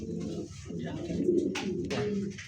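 Racer pigeons coo softly in a low, steady murmur at a Bengali pigeon sale, with people talking nearby over the cooing.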